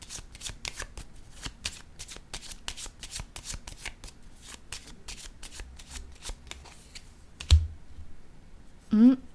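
Tarot cards are shuffled in a long run of quick, crisp riffling flicks, followed by a thump as a card is laid down and a short tonal chime at the end.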